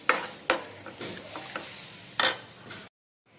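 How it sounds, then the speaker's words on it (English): A spoon scrapes and stirs milk into a thickening white sauce in a pan, with irregular close scraping strokes and a few sharper knocks against the pan before it falls silent. "Keep stirring so that the lumps may not be formed."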